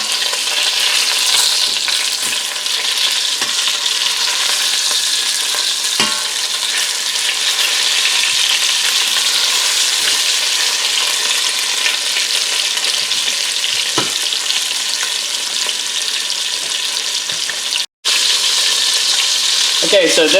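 Pieces of meat browning in a hot pan for Cajun rice and gravy, a steady close sizzle and crackle running unbroken throughout, with a few faint clinks and one brief dropout near the end.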